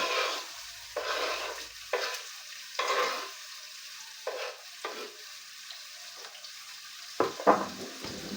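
Onions fry in hot oil in a pot, hissing with repeated bursts of sizzling and stirring scrapes at irregular intervals, close and fairly loud.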